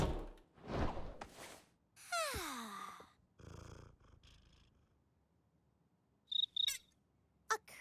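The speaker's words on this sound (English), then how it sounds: "Is that a cricket?" A cricket chirping at night in a cartoon, a few brief high-pitched chirps near the end, faint and isolated, after some louder scattered sounds early on.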